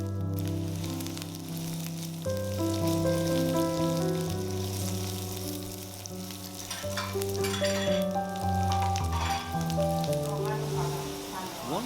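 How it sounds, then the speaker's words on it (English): Almonds and cashews sautéing in hot oil for lamb majboos, with a continuous close sizzle and crackle under steady musical tones, and no talking. "Once the oil is hot, go ahead and add your 1 cup of almonds, and 1 cup of cashews and saute it"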